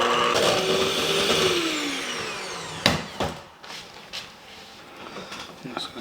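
Cream cheese being beaten into a cinnamon roll mixture with an electric mixer, a steady whirring drone with a falling pitch near the start, then a few knocks and clatters as the mixing eases off.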